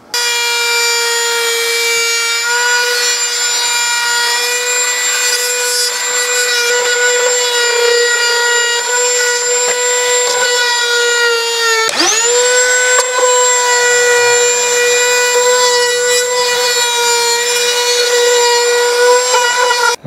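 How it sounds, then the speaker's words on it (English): A light wood router hums steadily and loudly while rounding the edges of wooden parts for a Viking-style sun chair, its pitch dipping briefly under load before recovering, with no talking. "I'm going to go around everything with a light router just to give everything a nice smooth edge"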